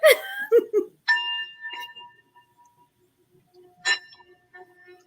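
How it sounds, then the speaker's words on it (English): A struck metal tool rings out with a clear sustained tone that slowly fades, then sounds again later; brief voice sounds open the clip before the ringing. "There's tools out there too, like tuning forks"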